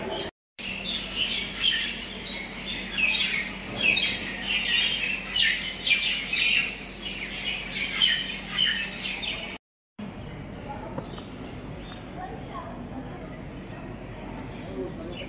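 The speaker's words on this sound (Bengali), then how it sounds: "এই কালকা স্টেশনের রুফে কিন্তু প্রচুর পাখি রয়েছে। তোমরা সারা দিন এখানে তাদের গান শুনতে পাবে।" Many birds on the roof of Kalka railway station chirp and squawk together in a busy, continuous chorus with some speech around it, then cut to a quieter station ambience.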